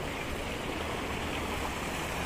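A small stream flows beneath rocks on a hillside near a man-made lake in Qatar, a steady, even rush of water with no talk over it.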